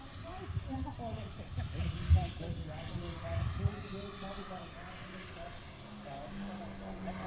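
Propeller race planes at an air race drone past in a steady, moderately distant roar that swells and fades over several seconds, with a commentator talking over the engine noise.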